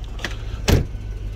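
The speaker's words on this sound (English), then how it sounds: "I'll just jump out of the car quickly" Someone climbs out of a Range Rover P38 4.6 V8 HSE running on LPG: a light rustle, then a single close thump of movement or the door, over the steady low idle of the engine.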